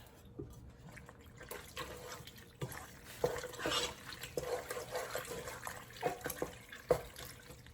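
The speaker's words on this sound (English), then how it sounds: "I saved just a little bit of pasta water. I'm gonna dump that here in the jar." Pasta water poured into a jar, heard as soft close splashing and trickling with small clinks, irregular and fairly quiet.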